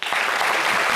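A live studio audience at a French-language television show breaks into steady, full applause, dense clapping that starts abruptly and holds evenly throughout.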